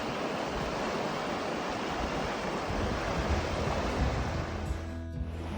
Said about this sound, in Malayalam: അപ്പൊ ഇതാണ് ക്യാനിയന്റെ താഴത്തെ റിവർ.